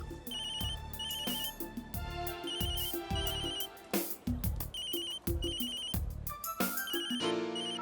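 A telephone rings with a repeating electronic melody, its chirping tones cycling in quick bursts, loud and close with no voices.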